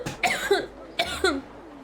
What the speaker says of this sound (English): Okay, I appear to have a cough right now